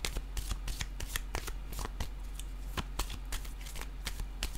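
Oracle cards are shuffled and drawn in a quick series of close, crisp riffling snaps and flicks, steady and rhythmic throughout, with no talking.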